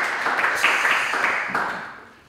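An audience claps at a contest show in Lubumbashi, a dense, fairly loud wash of applause that swells and then fades away toward the end.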